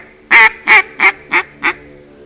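A duck call blown to imitate a hen mallard gives five loud, nasal quacks in a descending cadence, each shorter and softer than the last, close and clear with no talking.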